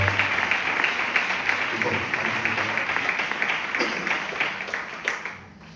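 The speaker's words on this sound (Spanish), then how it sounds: "¿Le podemos dar un fuerte aplauso a sus palabras, por favor?" A church congregation applauds in a sustained round of clapping that gradually fades toward the end, with a voice speaking over it.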